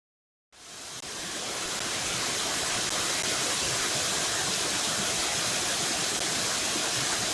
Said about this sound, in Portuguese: Esse é um curso de água sazonal